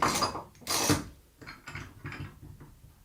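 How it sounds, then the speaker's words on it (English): A spring clamp snaps and ratchets onto a shelf pin router jig, giving a few short, close mechanical clicks and clacks in quick succession with no talk. "We'll just pop a quick spring clamp on that."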